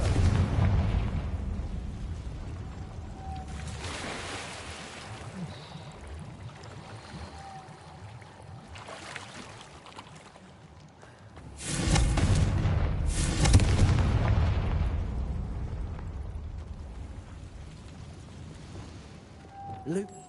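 Confringo spell explosion in the Hogwarts Legacy video game: a deep booming blast near the start rumbles into low debris noise, and a second heavier eruption around twelve seconds roars and then slowly settles, with game voices in between.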